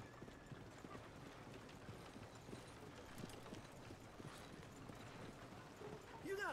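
Horse hooves clip-clop on the ground in the video game Red Dead Redemption 2 as the horse approaches the stables, a steady quiet patter with faint background noise.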